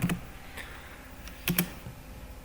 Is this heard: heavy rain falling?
no